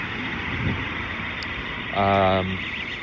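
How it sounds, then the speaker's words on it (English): A vehicle alarm goes off outdoors, a brief loud burst of rising and falling tones lasting about half a second amid traffic background, with someone talking beforehand. "Got an alarm set off there."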